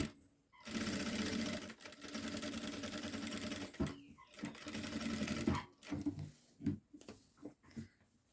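A sewing machine stitches a boy's children's outfit in steady running bursts, stopping briefly between seams and starting up again, loud and close, with short pauses and light handling sounds near the end.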